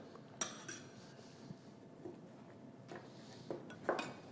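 Black olives being pitted with a knife in a home kitchen, a series of quiet clinks and taps of metal on a board and dish, scattered and irregular, faint and close with no talk.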